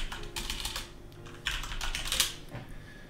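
Keys clatter on a computer keyboard in quick bursts of typing, close and fairly soft, with short pauses between the runs of keystrokes.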